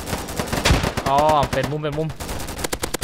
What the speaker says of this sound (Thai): เสียงปืนไอตัวนี้มันเสียงมันไม่ค่อยดังจริงนะ